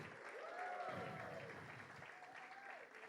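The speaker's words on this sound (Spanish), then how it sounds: "Y le damos un fuerte aplauso al Señor en esta mañana" Congregation clapping at a Spanish-language church service in the morning, a steady wash of applause lasting the whole stretch, with voices and shouting mixed through it.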